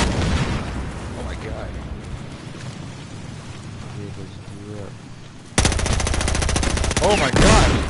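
Gunfire and explosions from a Battlefield Hardline match, a dense rattle of shots under speech before a sudden loud blast that leaves a sustained roar of fire and debris near the end.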